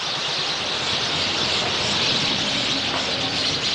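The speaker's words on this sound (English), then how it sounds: "that is a lot of birds. Like, it's just totally full of them, as I'm sure you can hear." A large mass of birds chirps together in a dense, continuous wash of overlapping high calls, steady and fairly loud without pauses, during a camel safari outing.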